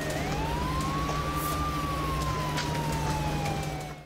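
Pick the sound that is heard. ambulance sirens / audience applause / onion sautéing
ambulance sirens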